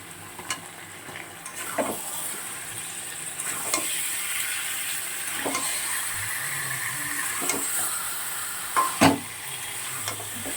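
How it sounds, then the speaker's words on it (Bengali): Chicken pieces frying for biryani, a continuous close sizzle broken by intermittent stirring scrapes and a few sharper knocks of the utensil against the pot. "চিকেনগুলো দিয়ে দিচ্ছি।"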